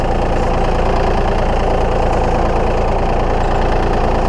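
Close, loud tractor engine idling a little over idle with a steady low rumble and rapid knocking pulse, constant throughout with no voices.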